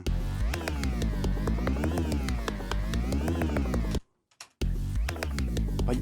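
Dense, sustained synth tones with a deep bass layer and bright upper harmonics, playing continuously, briefly cutting out near the end before resuming.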